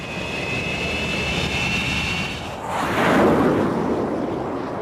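A US Navy Panther jet fighter on an aircraft carrier deck is catapulted off: a steady high jet whine gives way to a swelling, loud rushing roar as the launch fires, then a sustained engine blast.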